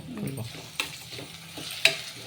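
Uggani stirred in a pan right after chopped coriander goes in, with two sharp spoon knocks against the pan over a faint sizzle in a short close burst.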